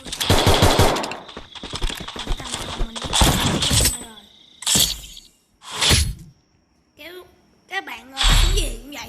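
Submachine gun fire in a mobile shooter game comes in rapid bursts separated by short gaps, loud and close, mixed with other game effects.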